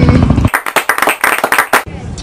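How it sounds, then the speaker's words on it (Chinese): Applause from a small group: a burst of hand clapping lasting just over a second, fairly close and lively, with voices before and after it. "掌声鼓励"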